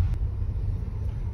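A Volkswagen Golf 8 with keyless start drives along with its engine running, giving a steady low rumble of engine and road noise that continues without a break.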